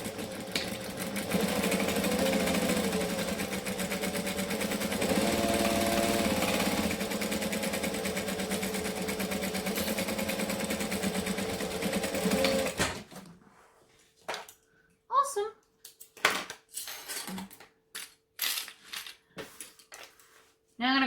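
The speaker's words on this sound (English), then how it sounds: "So now I'm just going to stitch around that curve, leaving the top." A sewing machine stitches around the curved flap of a fabric bag, running as a steady continuous whir for about thirteen seconds before stopping, followed by scattered short clicks and handling noises.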